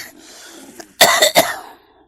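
A short burst of coughing, two or three harsh coughs close up, with no one speaking.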